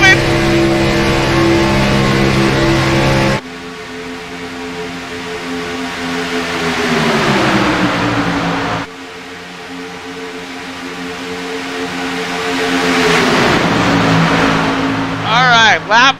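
Stock race cars racing at Talladega in an Xfinity event roar past with loud engine drones that rise and fall in pitch through several pass-bys, with a voice talking over the racing.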